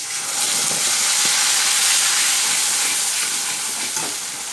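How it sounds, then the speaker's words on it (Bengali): Onion paste sizzles and fries in hot oil in a pan, a loud, steady hiss with faint crackles throughout, close up and without talking. "পেঁয়াজটা দিয়ে একটুখানি পেঁয়াজটাকে কষিয়ে নেবো কাঁচা গন্ধটা যতক্ষণ না বেরিয়ে যাচ্ছে"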